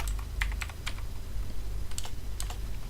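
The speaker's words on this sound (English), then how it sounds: "we type the IP address of the server" Typing on a computer keyboard while logging into a server, with irregular bursts of close keystrokes over a low steady background hum, no voices.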